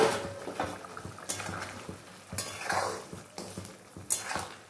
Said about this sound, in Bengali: এবার দিয়ে দেবো আমরা ভেজে রাখা পনিরগুলো। এই যে এগুলো দিয়ে একটু ফোটাবো ভালো করে।